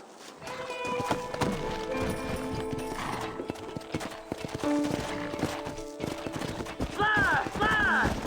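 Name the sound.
horses trotting, from a video game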